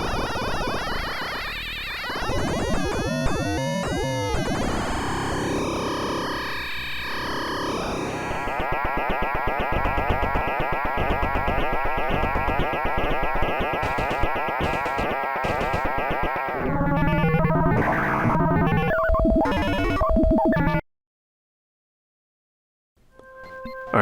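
A Bastl Kastle Drum synthesizer patch plays on its own as a dense, distorted, warbling electronic texture full of squeaks, buzzes and glitchy tones, shifting over time before it cuts out abruptly near the end.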